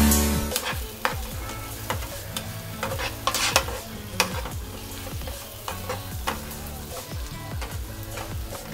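Fried dried prawns are stirred into a gongura curry in a pan, a constant close sizzle punctuated by rhythmic scraping strokes of the spoon every second or so, with no voices.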